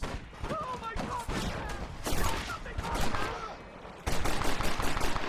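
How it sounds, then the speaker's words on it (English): Rapid Gatling gun bursts mixed with handgun shots in a shooter video game, loud and continuous across the whole stretch, with a short lull before a heavy burst near the end. "the Gatling gun and a handgun is crazy"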